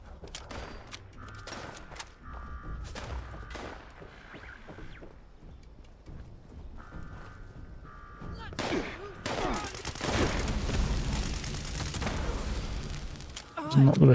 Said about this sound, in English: Not the best bit of shooting ever either.